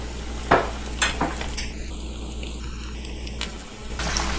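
Panko-crusted chicken breast tenders frying in coconut oil at about 360 degrees, a steady sizzle with a few sharp bursts and pops early on, close and fairly loud, no talking.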